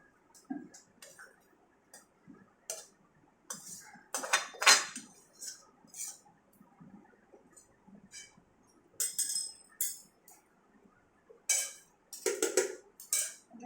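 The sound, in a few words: spooning rice layer into chicken biryani pot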